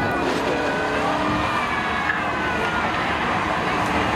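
A Charger race car runs at a drag race on a speedway, its engine a loud, steady roar heard from the track with constant crowd and ambient noise around it.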